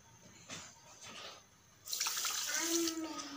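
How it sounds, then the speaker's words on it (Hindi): Water is poured into a pan with sugar to start a syrup for jalebi, a steady splashing rush that begins partway through and runs on close by after a quieter stretch of kitchen noise. "हाफ कप के करीब हम इसके अंदर पानी ऐड करेंगे"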